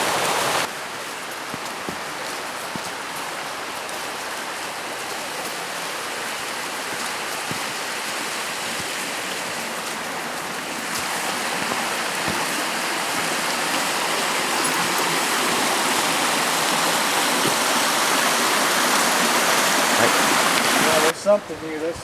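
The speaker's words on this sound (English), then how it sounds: "Just checking that waterfall out." A mountain stream pours over a waterfall choked with rocks and logs: a steady, loud, close rush of white water that holds nearly constant and swells slightly partway through.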